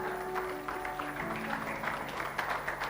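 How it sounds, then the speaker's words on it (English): An audience at a sales training event applauds continuously, a dense patter of clapping with a few faint tones underneath. "With a resounding applause, let's make welcome Olatide Onimila."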